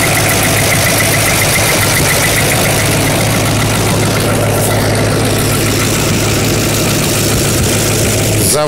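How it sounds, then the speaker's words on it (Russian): A GAZ-3307 dual-fuel dump truck engine idles in a loud, steady, close rumble with an even low throb, running on without pause for several seconds. "Вот специально снимаю двигатель."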